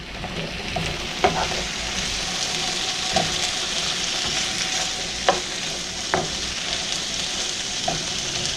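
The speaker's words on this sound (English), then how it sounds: "Now I know you can hear the sizzle." Potatoes and carrots sizzle steadily in olive oil in a skillet, a loud, continuous frying hiss with occasional sharp crackles and pops scattered throughout.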